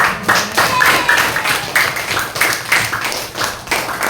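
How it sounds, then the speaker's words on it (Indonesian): Clapping from a small group during a classroom coding lesson, a short burst of uneven claps that carries on steadily for a few seconds, fairly close and without any talk over it. "Ayo kasih tepuk tangan."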